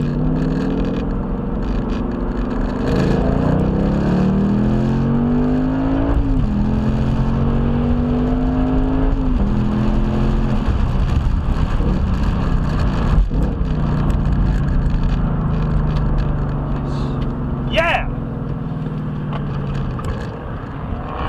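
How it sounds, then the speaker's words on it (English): A car accelerating and braking on a driving-training course, the engine note rising through several gear pulls and then easing off, loud and close throughout. "I had a perfect acceleration and braking run."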